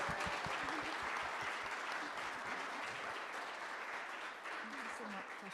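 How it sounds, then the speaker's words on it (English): A school board meeting audience claps for a young girl, dense steady applause that is faint overall, with some voices and murmuring mixed into the clapping. "Could you please give her a big round of applause?"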